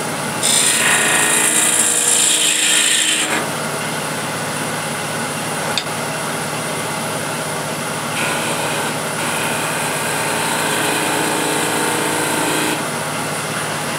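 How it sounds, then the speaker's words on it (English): A big skew chisel cuts a small cove in wood spinning on a lathe, giving a steady, loud shearing hiss with a brighter scraping burst at the start and small shifts as the cut changes. "you can do a little cove with a big skew"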